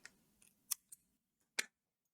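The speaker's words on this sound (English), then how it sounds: "cut your yarn" Scissors snip through crochet yarn at the end of a fishnet sleeve shrug, a few sharp crisp cuts spaced apart, close and fairly quiet, with no talking.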